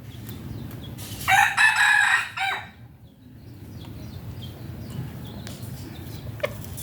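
A rooster lets out a single loud, near cock-a-doodle-doo lasting over a second, then the background settles into low ambient hum with faint clucking and scattered small noises.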